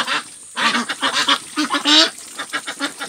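Pekin ducks quack repeatedly in loud, close, overlapping bursts with short pauses between calls, no talking.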